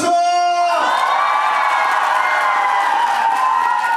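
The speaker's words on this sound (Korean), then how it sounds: "자, 박수 소리 제가 함성 소리 한번 테스트 한번 해보겠습니다." A large crowd at an outdoor market festival concert cheers and shouts together in a loud, sustained roar, with a high whooping voice rising above at the start.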